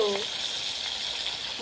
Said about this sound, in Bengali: এখন আমি সর্ষের তেলে কিন্তু চিকেনগুলো ভেজে ভেজে তুলে নিচ্ছি